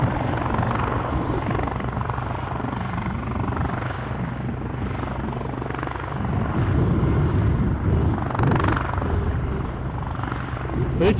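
A helicopter near Aberdeen Airport produces a continuous rotor thrum and engine drone, fairly loud and steady over eleven seconds with small swells in intensity.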